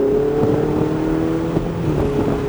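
A Ferrari accelerates on the NCM Motorsports Park race track, its engine holding a steady, close, loud droning tone through the whole stretch with no voices.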